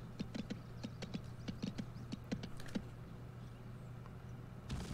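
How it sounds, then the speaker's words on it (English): Horse hooves clip-clop in the video game Go Vacation, a quick run of light, rhythmic hoofbeats over a low steady game hum, fading before a short soft rustle at the end. "I'm surprised the horse was actually able to jump up that way."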